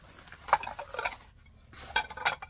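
Ceramic plates clinking and scraping as they are handled and stacked in a kitchen, two short bursts of close, bright clattering separated by a brief pause.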